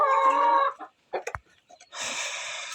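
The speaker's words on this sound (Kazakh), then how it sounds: "Так, мында бізде кучинг тауықтары." Kuchin breed chickens on a poultry farm cackle and cluck close by in bursts, a loud stretch of calling, then a pause with scattered clicks and scratches before another raucous outburst.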